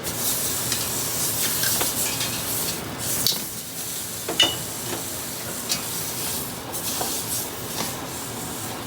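Lamb browning in a pan with a kitchen fan running, a broad steady sizzle and hiss with a few scraping and handling knocks, close and moderately loud, no talk.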